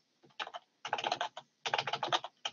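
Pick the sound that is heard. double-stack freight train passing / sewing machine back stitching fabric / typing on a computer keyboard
typing on a computer keyboard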